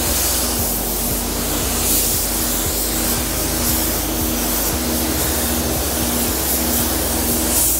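A 3300 sealer spray gun sprays paint on a Subaru STI, a steady, close hiss that runs unbroken for several seconds, with faint low thumps underneath and no talking.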